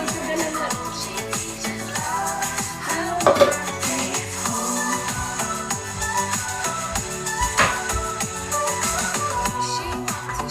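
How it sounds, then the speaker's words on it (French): Dishes being washed in a home kitchen produce clinks and clatters of plates, pots and cutlery against a busy background with music playing, loud and ongoing throughout. "Moi, je finis la vaisselle, là."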